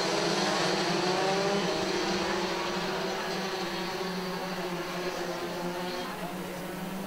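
DD2 Masters racing karts drone together at the start of a 15-lap race at the 2021 SARMC Round 3 at Idube, a loud continuous engine roar that holds steady and fades slightly near the end.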